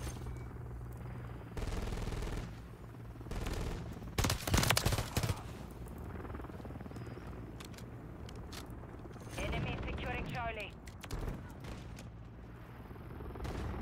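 Rapid bursts of gunfire in the video game Call of Duty: Modern Warfare III, clustered mid-clip amid constant game noise with voices and in-game callouts around it.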